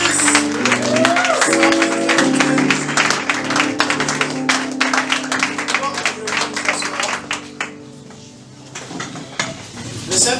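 A church congregation at a Full Gospel Togo gospel service claps and cheers loudly and steadily, a dense crowd roar with rhythmic applause, briefly dipping near the end before swelling again, with voices mixed in.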